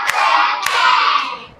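Hands clapping in a children's finger-counting clapping game, with two sharp claps in quick succession standing out over a sustained bright background sound, close by and with no speech.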